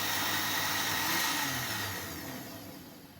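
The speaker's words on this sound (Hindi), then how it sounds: "ये 5 मिनट मैंने जूसर को सही अच्छे से चला लिया" A juicer runs steadily at close range, blending a peach drink with added water in a continuous whirring drone that eases slightly toward the end.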